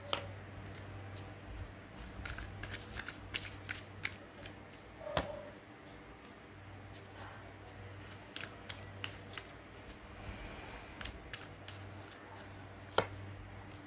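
Tarot cards are handled and shuffled at close range: quiet, scattered snaps and riffles over a low steady hum, with some sharper clicks spread through the stretch and no voices.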